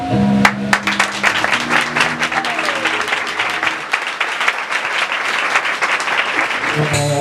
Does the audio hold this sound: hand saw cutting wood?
no